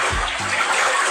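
Floodwater rushing like a river in front of a house in New York, a steady broadband roar of flowing water filling the whole clip, with a brief low rumble near the start.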